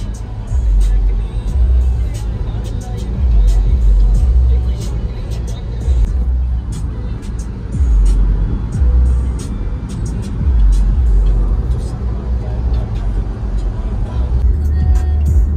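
A car on a long highway drive toward Ghaziabad, heard from inside the cabin. The engine and road rumble is loud and steady throughout, with people talking over it.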